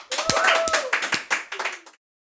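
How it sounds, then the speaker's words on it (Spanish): A short burst of hand clapping on a Spanish-language talk show, several quick claps over about two seconds under speech, then silence. "Un fuerte aplauso, por favor"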